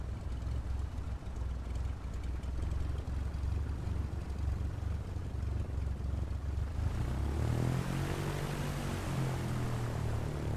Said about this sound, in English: I think we're ready to taxi out to the runway